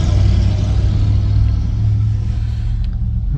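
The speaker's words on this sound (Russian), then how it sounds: "каждые 2 минуты машина проезжает" A heavy truck rolls past a KAMAZ truck cab waiting in a long queue, a loud, steady low engine rumble that fills the whole stretch with little change.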